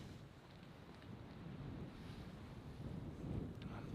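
Wind gusts buffet a camera microphone at a Kilauea eruption viewpoint, producing low, rumbling, uneven thumps that swell and ease, quiet overall and with no speech.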